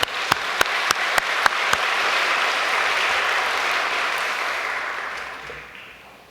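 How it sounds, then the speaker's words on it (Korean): A few sharp, separate claps come in an even rhythm, then swell into broad, sustained applause from a large church assembly that slowly fades toward the end. "하늘 부모님과 우리 천지인 참부모님께 감사의 박수를 한번 올리시면 좋겠습니다"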